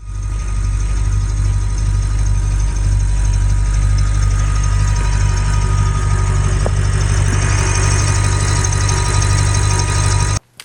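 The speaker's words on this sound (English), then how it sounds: "It almost sounded like half of the engine was running, like, you know, one cylinder bank wasn't firing" An Audi engine idles roughly after a cold start in snow, as if one cylinder bank is not firing: a loud, steady, droning hum with a constant low throb that holds for about ten seconds, then cuts off abruptly.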